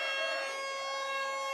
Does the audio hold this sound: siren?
yes